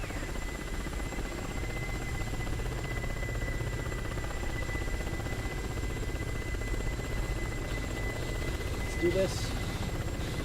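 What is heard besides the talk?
helicopter rotor RPM rising in DCS World video game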